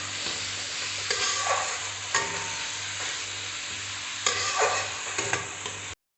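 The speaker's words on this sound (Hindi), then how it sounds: "ये प्याज को हमको अच्छे से पूरा भूनना है।" Onions frying for a simple curry until golden brown, a steady close sizzle with periodic scraping stirs of a spatula against the pan, no voices.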